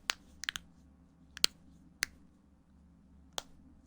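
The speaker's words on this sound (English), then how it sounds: "That's the sound of my knuck-knucks cracking" Knuckles crack in a handful of sharp, isolated pops, a few grouped closely and others spaced out, close-up against a quiet background.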